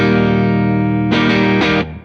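A Fender Stratocaster on its neck pickup rings through a Seymour Duncan 805 overdrive, a sustained crunchy chord followed by two quick strummed hits and a brief cutoff, loud and close.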